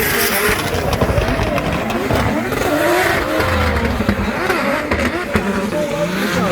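A Toyota GT86 drift car in a Drift Masters competition in Ireland, its engine revving hard and bouncing off the limiter in loud, continuous bursts, with a commentator talking over it.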